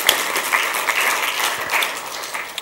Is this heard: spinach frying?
no